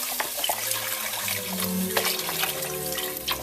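Boxed vegetable stock poured into a pot with rosemary and garlic, a continuous close gurgling stream of liquid splashing for a few seconds.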